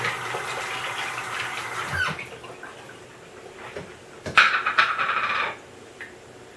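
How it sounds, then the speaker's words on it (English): Tap water runs and splashes while hands are washed at a kitchen sink during cannoli-shell making, a steady hiss with brief louder splashes and squeaky rubbing, no talk. "Wash my hands."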